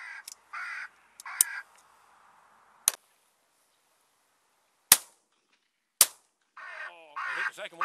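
Shotgun fire while shooting pigeons and crows over stubble fields in November, several sharp isolated reports spaced seconds apart in open quiet air, with crows cawing before and after.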